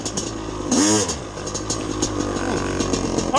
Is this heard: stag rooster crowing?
no